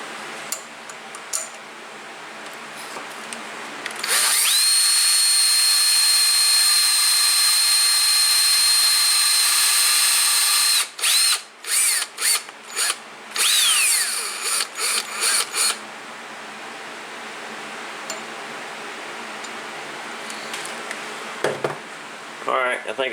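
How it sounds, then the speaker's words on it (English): Drill boring holes to mount a linear rail on a PM727MXL milling machine, a steady whine running for about seven seconds, then several short on-off bursts, with quieter shop noise around it. "we'll bore a couple of holes and get some screws in there"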